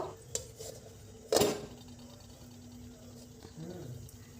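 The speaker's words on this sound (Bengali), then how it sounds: "এখন এর মধ্যে আমি বিস্কুটের থালাটাকে বসিয়ে দেব" A metal biscuit plate sets down on a stand inside a preheated pan with one sharp clatter, followed later by a softer scrape of metal, in a quiet kitchen.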